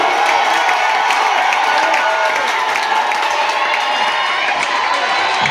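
A crowd at a gathering shouts and cries out with joy in a loud, continuous, dense roar of voices that holds steady throughout, with no pauses or single standouts.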